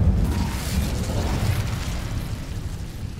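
A burst of flame from the Incendio spell in Hogwarts Legacy booms out as a dull, muffled blast, then trails off into a rumbling, crackling roar that fades slowly over a few seconds.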